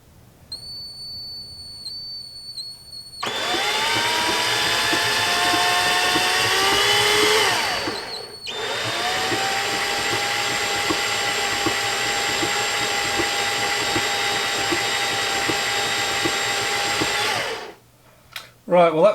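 Machine with a chuck spins up from a whirring start into a steady high-pitched whine, drops briefly, then restarts and runs evenly before winding down at the end.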